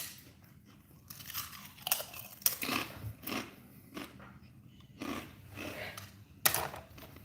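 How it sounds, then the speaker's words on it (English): Halloween-shaped potato chips are chewed close to the mouth, giving repeated loud crunching bites in an irregular rhythm with quiet pauses between chews. "Hope I'm not chewing too loud."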